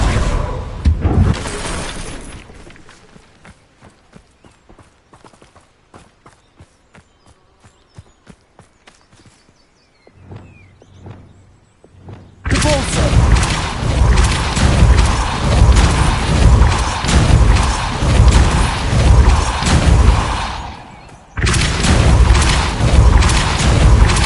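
A Confringo blast spell goes off in Hogwarts Legacy amid clip-clopping hoofbeats, with sharp booming, shattering bursts erupting into loud sustained crashes, a short pause, then another heavy blast.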